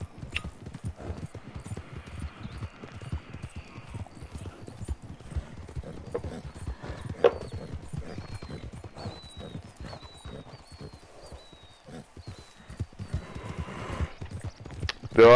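Steady clip-clop of a horse's hooves in Red Dead Online, rhythmic hoofbeats at a walking pace throughout, with a brief whinny and faint ambient birdsong in the background.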